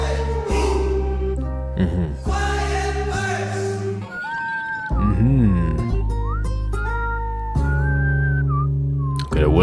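Melodic whistling rides over the beat and bass of a song, clear and prominent, with sliding phrases repeating through the track.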